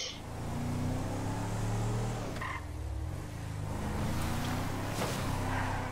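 A car engine hums steadily while driving in the Grand Theft Auto V video game, a continuous low drone that shifts pitch midway as the vehicle changes speed, with no voices over it.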